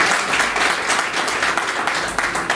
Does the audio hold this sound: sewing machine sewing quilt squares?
no